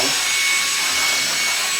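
A Hoover vacuum cleaner running steadily at close range, a loud continuous airy roar with no pauses.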